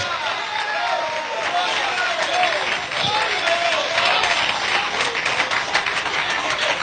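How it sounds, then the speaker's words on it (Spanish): Applause from a church congregation during a Spanish-language sermon, a steady wash of clapping with crowd noise that holds evenly throughout at moderate loudness. "Qué poquitos aplauden, gloria a Dios."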